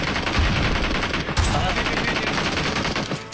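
Heavy sustained gunfire in the battle royale shooter Peacekeeper Elite, loud dense bursts of automatic fire crackling continuously with sharper shots near the start and middle, no voices.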